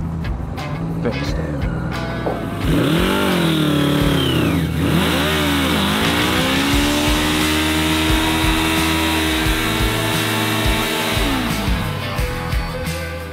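A 1977 Suzuki GS750 motorcycle engine, an old bike saved from scrap, runs loud and close, with several rising and falling revs over a steady idle throughout.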